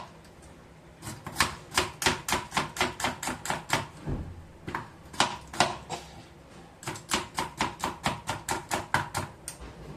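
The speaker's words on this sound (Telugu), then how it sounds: "ఇవన్నీ కట్ చేసుకుందాం" Knife chopping vegetables on a cutting board for vegetable pulao, fast rhythmic bursts of sharp taps in three runs separated by short pauses, close and clear.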